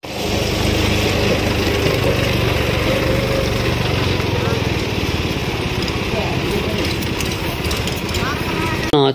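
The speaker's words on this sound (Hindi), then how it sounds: "एक और ट्रैक्टर है" A tractor engine runs continuously in a steady, loud droning rumble that keeps an even level for about nine seconds. A voice speaks over it.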